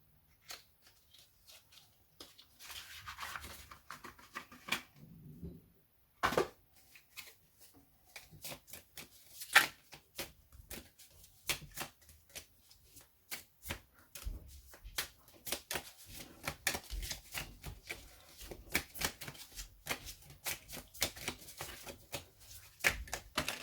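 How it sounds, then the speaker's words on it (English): Moonology oracle cards shuffled and drawn by hand for a love tarot reading, giving repeated dry riffling and soft slapping taps in irregular bursts, close and moderately quiet, with a short pause partway through and no talking. "I'm going to take 3 Moonology cards."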